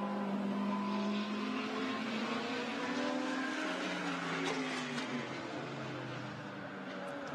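An FFF Racing Team Lamborghini GT race car is pushed hard around Suzuka in a Blancpain GT Series Asia race, its engine droning loud and steady with rising and falling pitch as it passes, with other cars blending into the roar.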